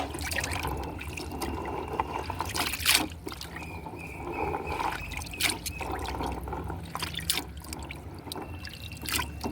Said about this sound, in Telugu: ఉసిరికాయలను బాగా కడుక్కోవాలి